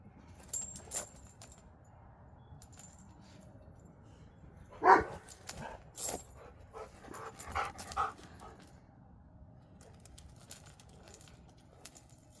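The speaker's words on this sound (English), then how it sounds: "I was waiting for the dogs to stop barking" A few dogs barking outdoors at a home with a campfire area, several short separate barks spread over a quiet background rather than steady barking, moderately close.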